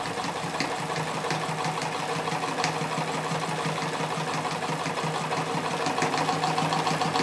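A 1970s East German Keller-51 zigzag sewing machine runs steadily with its automatic unit switched on, giving a continuous close mechanical whir with rapid repetitive stitching clatter and no talk.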